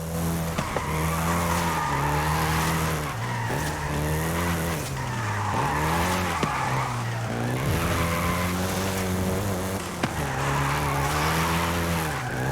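A Volkswagen Golf GTI in Forza Horizon 5 drives hard with sustained engine drone and shifting revs, tires squealing through long skids that rise and fall across the run, loud and continuous.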